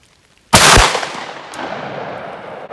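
A single loud, close shotgun blast fires a .690 round ball over 31 grains of Winchester powder, after near silence, then a long outdoor echo trails off.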